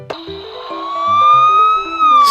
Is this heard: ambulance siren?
yes